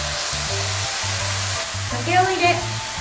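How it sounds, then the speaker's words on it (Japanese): Drained lotus root stir-fried in a pan for kinpira, a loud, steady, close sizzle with frying crackle, interrupted by a few soft scraping stirs near the end. "水気を切ったレンコンを入れ火が通るまで炒めます"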